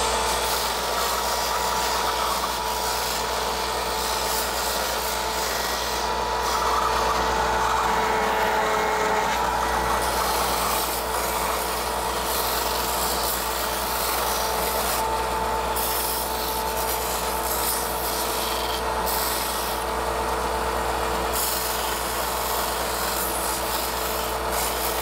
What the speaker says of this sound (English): Okay, we'll switch over to the sander now.